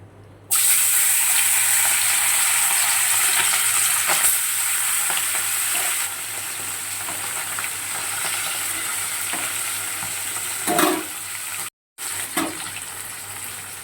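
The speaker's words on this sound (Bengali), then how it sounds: "দেখো মাছটা আমি একদম সামান্যভাবে ভেজে নিয়েছি, বেশি ভাজলাম না।" Fish rubbed with salt and turmeric fries in hot oil in a kadai, a loud, close, steady sizzling hiss that starts abruptly and continues with faint stirring clinks and a brief cut near the end.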